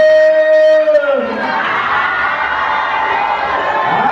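A church congregation at a Sunday service cheering and acclaiming God, a loud, sustained roar of many voices that swells after a sung or shouted tone and continues to the end.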